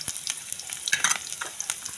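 Garlic and onions fry in a pan for chicken adobo, a soft, close sizzle with light scraping and crackling taps, brief and fairly quiet, with no speech.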